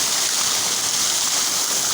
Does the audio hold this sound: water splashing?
yes